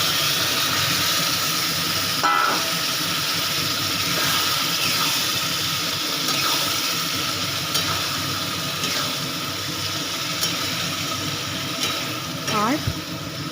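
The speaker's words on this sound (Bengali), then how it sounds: "এবারে আমি সেদ্ধ করা কাবলি ছোলাটা এতে দিয়ে দেবো।" Boiled kabuli chickpeas go into a pan of spiced masala cooked with mutton fat, giving a loud, continuous sizzle and hiss with occasional stirring scrapes.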